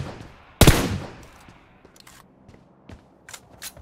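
A single loud, close gunshot with a ringing tail in the PUBG video game, followed by fainter distant shots and light clicks.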